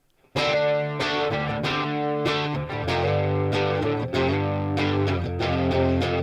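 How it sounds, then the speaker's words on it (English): Electric guitar notes through a Boss Katana Mk 2 amp, plucked in a steady pattern, each echoing with repeating delay and a reverberant tail, loud and close with no talking. "So it's just a little bit of reverb to go along with that delay."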